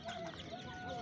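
A rooster calls amid the bustle of a village poultry market, a steady thin tone over a dense murmur of birds and low crowd noise.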